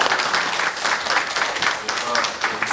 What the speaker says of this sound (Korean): 회장님께 다시 한번 박수 부탁드리겠습니다.